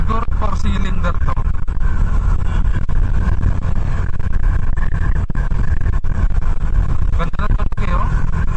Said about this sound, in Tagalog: yung tunog ng makina niya is pang classic talaga na sports bike